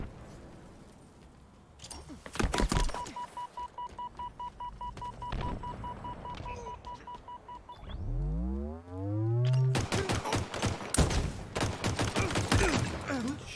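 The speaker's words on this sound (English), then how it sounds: "for games like this and man, they spam their grenade throwing." Rapid bursts of video game gunfire with grenade explosions, played on an ASUS Dual RTX 4070 White OC graphics card; loud, dense volleys open and close the span, with a sustained tone and a low sweeping boom between them.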